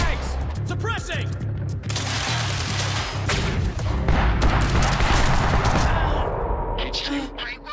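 Sustained suppressive gunfire in the video game Quantum Break, with rapid bursts of automatic shots and booms layered over dense battle noise and shouted voices for the whole stretch.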